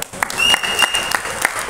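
An audience claps at a Tamil film event, a loud, continuous burst of hands with sharp individual claps standing out and a sustained tone running beneath.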